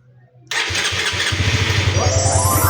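A Honda CBR150 motorcycle with a newly replaced fuel pump starts up after brief cranking and settles into a loud, steady, close-up idle with a throbbing rhythm.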